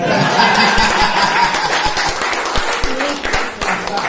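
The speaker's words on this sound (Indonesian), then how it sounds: "Tepuklah sikit." An audience at an association's installation ceremony claps in a dense, continuous patter close by, with scattered chuckles and murmurs mixed in.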